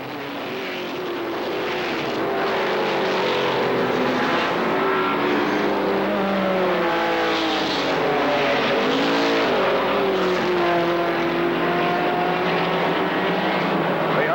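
ARCA SuperCars stock cars racing at Kil Kare Speedway, a loud sustained roar of several engines revving and shifting as the pack runs down the back stretch into a turn, steady and continuous throughout.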